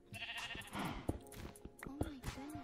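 Sheep bleating in the Minecraft video game, several short bleats in a row, close and clear, mixed with game sounds while someone speaks over them.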